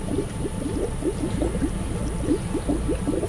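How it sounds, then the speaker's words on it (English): Continuous bubbling and gurgling of water as a boat sinks in the video game UnderRail, steady and fairly close with no voices. "it very much sounds like this boat is starting to sink"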